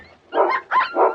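A nervous dog gives a few quick, close barks and yelps in a short burst, loud and alone, indoors in an English country house.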